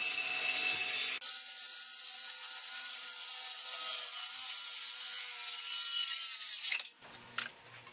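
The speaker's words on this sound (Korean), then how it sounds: "뒷판을 재단합니다." A wooden back panel for a wardrobe is being cut with a power saw, a loud, continuous, rasping cut of about seven seconds. It ends abruptly with a brief clatter, and no one speaks.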